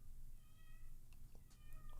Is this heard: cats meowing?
yes